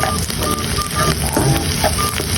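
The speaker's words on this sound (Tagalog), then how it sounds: "lalagay na natin dyan yung bagoong." Bagoong shrimp paste hits a hot pan and sizzles loudly and steadily, a dense close frying hiss with faint stirring scrapes.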